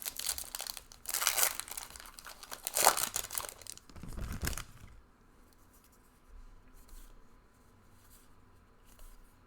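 Foil wrappers of Magic the Gathering Mystery Booster packs crinkle and tear in several loud close bursts, then give way to quieter, sparse rustling.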